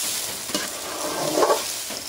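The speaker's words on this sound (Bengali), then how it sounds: "আমি দুধটাকে খুব ভালোভাবে ভেজে নিচ্ছি তেলের মধ্যে" Khud broken rice being fried in oil in a pan, a brief steady sizzle with light stirring rustles, close and fairly loud.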